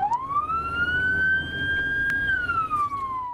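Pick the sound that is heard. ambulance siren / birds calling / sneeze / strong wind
ambulance siren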